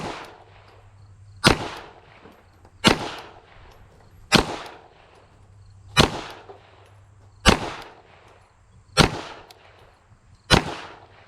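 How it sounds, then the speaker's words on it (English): A Beretta APX A1 Tactical pistol fires a 10-shot string of loud, sharp reports spaced about one and a half seconds apart, each with a brief echoing tail, heard alone at a range. "Let's shoot another 10-shot group"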